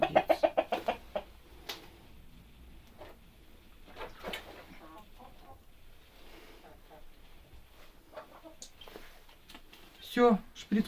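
A hen being handled during home treatment clucks in a quick burst at the start and again near the end, close and fairly loud, with a person murmuring quietly in between.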